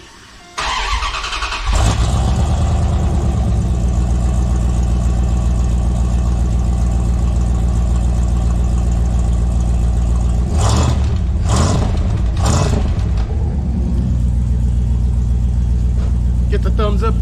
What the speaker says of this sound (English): Here's the first startup with the new muffler.